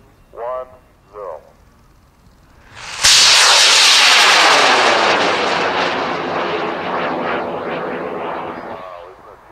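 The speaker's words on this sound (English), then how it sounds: "Number 3 on high power pads, we're launching in 5, 4, 3, 2, 1, 0." High power rocket launched from a pad on a K470 motor: after two short voices, a sudden loud roaring burst begins and holds strong for several seconds, slowly thinning as it climbs away.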